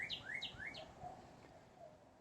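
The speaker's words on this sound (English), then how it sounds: "as soon as I started to make a video, the birds decided that they were going to serenade me" Outdoor birds sing faintly in the background with a series of short, repeated rising chirps and tweets, spaced about every third of a second, followed by a few softer whistled notes over a low, steady ambient hiss.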